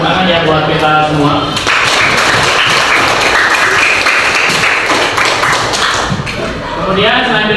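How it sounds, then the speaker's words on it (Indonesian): Students in a classroom clap together in a dense, loud burst that lasts several seconds before tapering off. Voices and cheering mix in with the clapping. "ternyata tepuk tangan ya buat kita semua"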